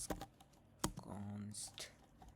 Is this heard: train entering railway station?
no